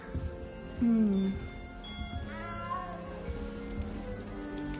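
A cat in a castle gives a clear, close meow, followed by softer drawn-out meows and rising calls over a quiet ambient background with faint speech.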